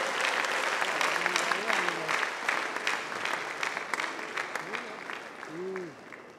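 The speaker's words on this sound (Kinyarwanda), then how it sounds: "Tugukomeye amashyi yo kugushimira." Church congregation at an ADEPR service applauding, a dense, steady burst of clapping throughout that thins slightly near the end, with voices and singing-like calls rising over it.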